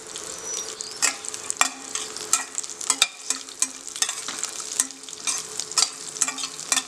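Crushed cashew nuts fry in a hot pan for beetroot rice, a steady close sizzle broken by repeated sharp scrapes and clinks of a stirring spoon, with no voices.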